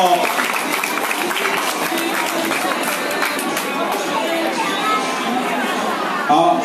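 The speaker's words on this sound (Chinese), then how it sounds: "掌声在哪里？" Crowd clapping and chattering at a hand-pulled noodle performance during a temple festival, a dense, continuous burst of applause with voices mixed in, fairly loud and close.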